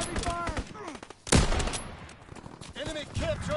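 Bursts of machine-gun fire and a heavy impact crack from a strafing run in Call of Duty: WWII, with swooping aircraft engines and game voices over the rapid clatter.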